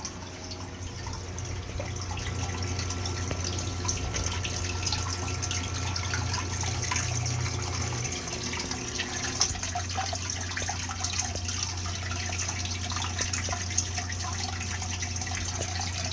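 Steady rush of water discharging from a sump pump, with a low hum and scattered drips, continuous throughout with a slight shift midway as the pump turns on, no talking.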